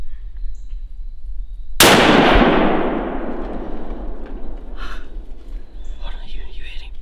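A single loud rifle gunshot rings out during a deer hunt by a creek, a sharp crack with a long fading echo, amid hushed whispering before and after.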